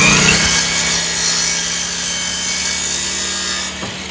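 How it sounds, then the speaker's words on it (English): A saw cuts steadily through a wooden board in a school bus being converted, a continuous loud rasping drone lasting several seconds before it winds down near the end. "So Shane is cutting this board to size"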